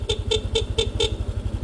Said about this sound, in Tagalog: So ang ginamit nating selector ng busina, ito. So pag naka-off siya, stock.